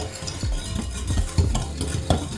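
Tiger nut pastry ingredients for gluten-free vegan tarts are mixed in a bowl, giving loud, close, rhythmic scraping strokes that repeat steadily with no talking.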